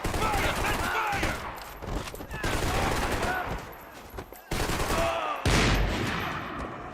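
Dense gunfire in a firefight in Max Payne 3, with rapid overlapping shots and bursts that come loud and close, dropping away briefly in two short pauses before the shooting resumes.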